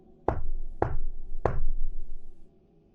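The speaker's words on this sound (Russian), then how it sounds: "3 раза постучал во входную дверь" Three sharp, loud knocks land on a front door, evenly spaced about half a second apart, each ringing briefly before near silence.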